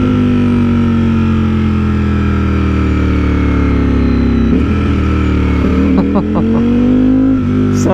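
A motorcycle on a new exhaust setup, riding on a warm day in Southern California, drones steadily loud and close, then blips through several quick revving downshifts near the end.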